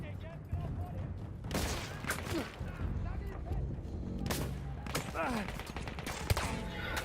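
Gunfire from Battlefield 1, a World War I shooter, with several loud bursts of shots and booms standing out over a steady battle din, while a voice talks under the fighting.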